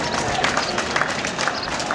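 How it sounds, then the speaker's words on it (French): A crowd applauds and cheers for President Félix Tshisekedi at an outdoor public gathering in Kasumbalesa, Haut-Katanga, a dense, continuous wash of clapping and voices with no clear break. "je voudrais qu'on puisse applaudir le chef de l'État"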